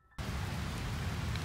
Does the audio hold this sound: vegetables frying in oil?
no